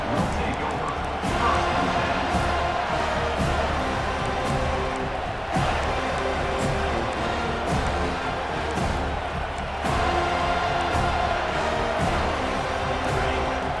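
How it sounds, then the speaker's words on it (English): A large stadium crowd in the video game EA Sports College Football 25 roars steadily with surges of cheering, loud and continuous, while a commentator talks over it. "This crowd bringing the energy and noise early"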